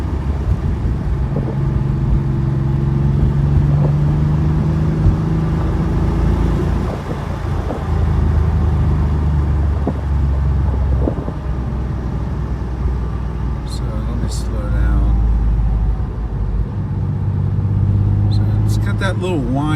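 A Porsche 964 engine pulls up through the gears in a car, with rising and falling engine rumble across several shifts, loud and close, and some talk in the cabin.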